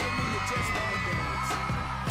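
Fans scream and cheer over a pounding dance beat in a song recording, the crowd noise steady and loud throughout under the music.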